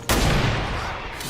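Cannon shot from the video game XCOM 2, a single loud, close blast that hits suddenly and then rolls on as a long, broad rumbling decay.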